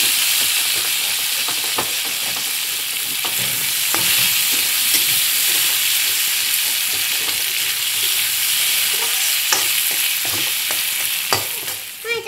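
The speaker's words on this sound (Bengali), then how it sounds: "এখানে মিষ্টি মিষ্টি কুমড়োর ভাজা করছি" Sweet pumpkin frying in a pan, a continuous loud sizzle with frequent scraping and clinking stirs from a spatula, close by and without any voices.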